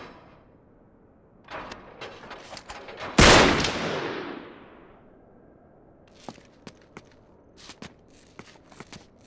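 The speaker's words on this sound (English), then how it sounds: "I'll shoot the lock." In the video game Uncharted, a single loud gunshot blasts open a lock after some shuffling movement, its echo fading over a second or two, followed by light scattered footsteps and clicks.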